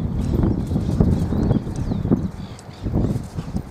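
Hooves of a young chestnut horse clip-clopping at a steady walk, close and distinct with an even rhythm and light outdoor background, no voices.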